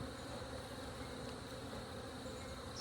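Honeybees swarming around a hive while a new nuc is installed, a dense continuous buzzing drone that stays steady and fairly loud throughout, with no voices.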